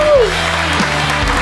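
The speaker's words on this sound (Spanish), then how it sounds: "vamos a darle un fuerte aplauso a Dazón" Brief audience applause in a studio interview setting, steady clapping mixed with voices and a short musical sting.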